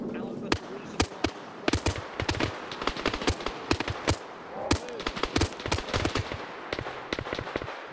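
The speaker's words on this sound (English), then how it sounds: "Yep, flares. That's the flare gun." A flare gun in the video game The Secret War 2 fires a rapid, irregular string of sharp pops and bangs, some near and loud, others quieter, repeating through the whole stretch.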